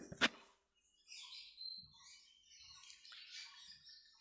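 Several short calls and chirps from pineapple conure parrots at the Garia bird market, high and scattered, with quiet gaps between them, sounding a little distant.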